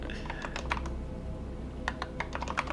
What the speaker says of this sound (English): I'm typing this, man.